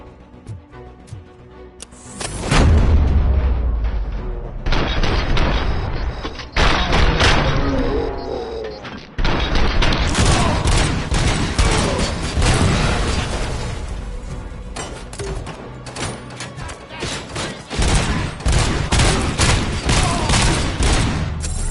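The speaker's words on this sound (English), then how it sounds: "That was a grenade launcher." Grenade launcher blasts in the video game RoboCop: Rogue City, a loud burst of explosions and rapid gunfire that starts after a couple of seconds and keeps going as dense, continuous combat noise.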